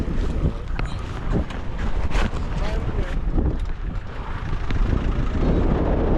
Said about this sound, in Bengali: দেখছেন বাতাসে কি অবস্থা ধুলাই শেষ